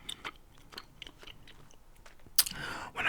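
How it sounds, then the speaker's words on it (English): Someone chews food close to the microphone during a whispery ASMR session, making soft wet mouth clicks and then a sharp, loud crunch near the end. The sound is quiet and intimate, and no one talks. "I tried to do some chewing in this video"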